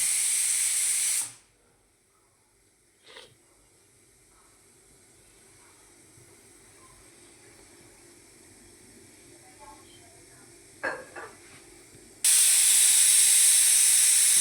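Steam whistles from a pressure cooker of watermelon rind cooking on a gas stove: a loud, shrill hiss cuts off early, faint kitchen noises follow during a long quiet stretch, then another strong blast of steam starts and keeps going.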